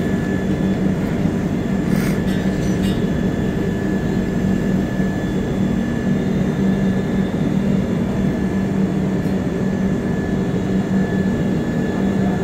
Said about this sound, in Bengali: এই যে ট্রেন কিন্তু ছাড়লো আমাদের রক্সওয়েলের 1 নম্বর প্ল্যাটফর্ম থেকে।